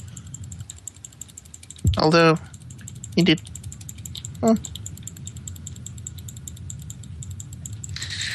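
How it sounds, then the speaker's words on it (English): Rapid, busy clicking of a computer keyboard or mouse runs steadily in the background, with a few short bursts of speech over it. "There is some furious clicking going on."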